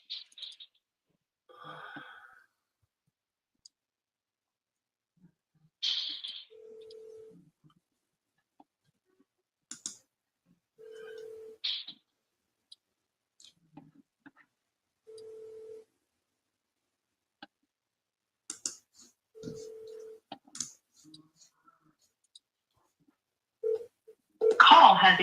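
Outgoing phone call from a real estate seller calling line: a repeated short ringback tone sounds four times with long gaps, mixed with faint clicks and scattered brief vocal noises, all fairly quiet.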